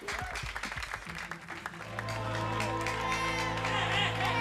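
An audience at a celebrity birthday and wedding celebration breaks into a burst of clapping and crowd noise, which gives way to a sustained hum under faint voices.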